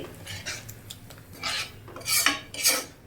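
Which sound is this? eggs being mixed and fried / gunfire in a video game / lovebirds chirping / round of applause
eggs being mixed and fried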